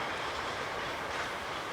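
A train moving back toward a rail yard, a continuous dense rumble and rolling wheel noise at a steady moderate level, with no voices.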